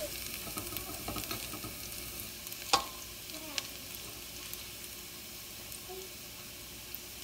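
Garlic fries in a pan for Filipino garlic fried rice, a steady soft sizzle with occasional light clicks and scrapes of stirring.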